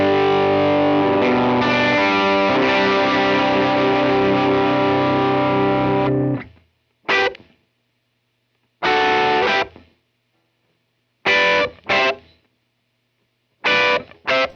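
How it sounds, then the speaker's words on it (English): An electric guitar with mild, smooth, rounded overdrive plays sustained chords of a song, then short stabbed phrases separated by silences. "For this part, I'm going with a mild overdrive that's more rounded and smooth."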